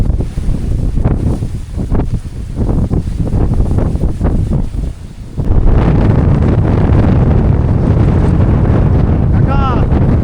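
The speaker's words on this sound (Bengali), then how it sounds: "প্রচণ্ড বাতাস" Strong gusting wind buffets the microphone on a remote river char island ahead of a Kalbaishakhi storm, swelling into a loud, steady roar halfway through, with a voice speaking over the earlier gusts.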